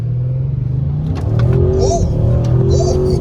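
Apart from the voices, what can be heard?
Audi RS7 taking off hard from standstill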